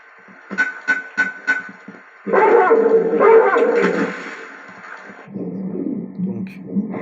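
A dog barks in Tomb Raider 2 in the Venice level, a quick series of sharp barks followed by growling and whimpering, with someone speaking over part of it.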